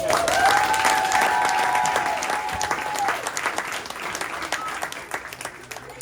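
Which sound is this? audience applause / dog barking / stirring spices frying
audience applause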